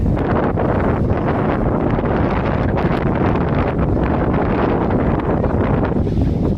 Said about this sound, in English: It was so windy. It was like 30 to 40 mile an hour winds.